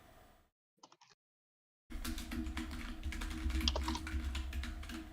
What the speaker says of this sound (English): What are you typing away over there?